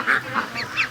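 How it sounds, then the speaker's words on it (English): Young ducks, still showing yellow heads, call out in their pen in the morning: three short, bright quacks in quick succession, fairly close, with no talking. "Oh, little ducks."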